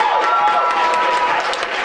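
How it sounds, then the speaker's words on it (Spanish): Audience applause and cheering from a live crowd at a first-anniversary tour show, a dense, steady wash of clapping that fills the whole moment without letting up. "¡Un aplauso!"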